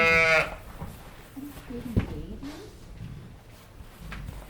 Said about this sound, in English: This is one of my favorite sheep because she is so friendly and she is very curious.